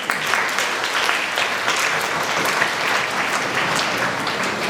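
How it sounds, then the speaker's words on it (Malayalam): A school anniversary audience breaks into loud, dense applause that holds evenly for several seconds, with no talk over it. "നമുക്കൊന്ന് കൈയടിക്കാം"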